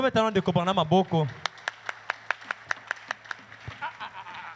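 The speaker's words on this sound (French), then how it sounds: "Applaudissez d'abord pour Frère Branham." A church congregation applauds after a voice speaks briefly, a run of sharp, evenly spaced claps ringing out in a reverberant hall, then more talk at the end.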